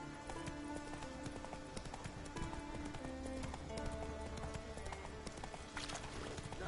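Horse hooves clip-clop at a steady trotting rhythm in The Witcher 3: Wild Hunt, amid a busy layer of game ambience and tonal music, fairly full and continuous.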